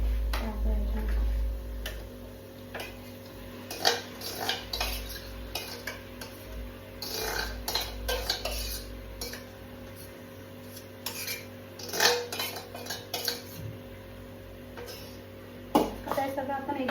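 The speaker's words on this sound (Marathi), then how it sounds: "ते आपण मॅरिनेशन करून ठेवलं चिकन ते टाकायचं." Marinated chicken goes into a pan and is stirred, giving scattered metallic clinks and scrapes of a utensil against the pan over a low steady hum.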